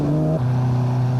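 A Castrol Toyota Land Cruiser rally engine runs steadily and loud, its harmonic drone dropping in pitch partway through as the revs settle, with no talk over it.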